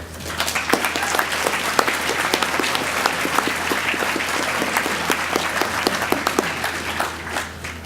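A spring graduation ceremony audience applauds PhD candidates, a sustained wash of many hands clapping at moderate volume, steady from start to finish in a large hall.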